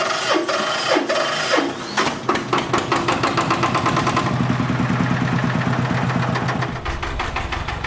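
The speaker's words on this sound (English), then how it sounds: "This sputtering custom-made three-wheeler is Lee's ride to his oyster farm." Custom-made three-wheeler on the way to an oyster farm in Taiwan, its engine sputtering with a rapid, uneven knocking beat, loud and close throughout, with rattling clatter over it and no talking.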